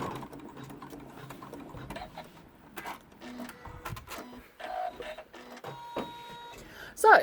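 An embroidery sewing machine stitches out quilting on an in-the-hoop notebook cover, making a rapid, uneven mechanical chatter with short pauses and some louder bursts.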